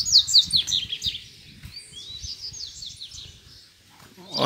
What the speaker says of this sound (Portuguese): canta muito a coleira, galera